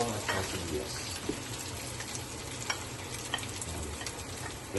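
Pork and hotdog sautéing with garlic and onion in a pan, a steady close frying sizzle with a few soft stirring knocks.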